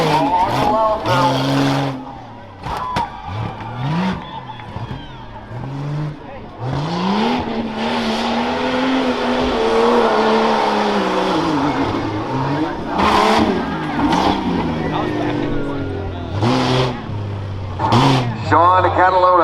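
A 1994 Jeep Grand Cherokee four-wheel-drive rough truck racing at a county fair in the stock class, its engine revving hard and rising and falling in pitch as it accelerates, loud and close, with an announcer talking over it.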